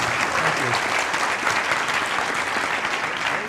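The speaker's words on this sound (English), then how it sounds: "Give him a round of applause" Applause from an audience fills the room as a steady, even wash of clapping, loud and continuous throughout with no break.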